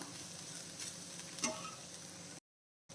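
Clove beans (mookuthi avarai) stir-fried uncovered in an open pan, giving a steady close sizzle with scraping stirs and a brief spatula clink midway, then a short cut to silence near the end.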